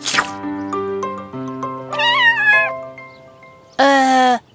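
A kitten meows several times, near and clear, with drawn-out pitched cries and a louder final meow, over tonal music in a cartoon scene with no talking.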